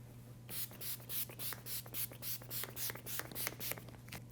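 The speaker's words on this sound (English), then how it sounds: "I'm gonna give it a nice shake and I'm gonna spray this all over my face." Makeup setting spray pumped onto a face in a rapid series of about a dozen short, close misting bursts, each a soft airy hiss, with no talking over it.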